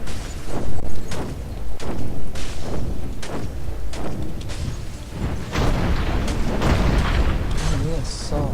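Repeated heavy booming cannon blasts in Dungeon Siege III, rolling one after another over dense battle noise and music.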